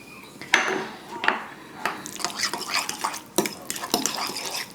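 Pippi the dog whines faintly in the background while kitchen sounds of clinking utensils and stirring in a pot carry on nearby in irregular bursts.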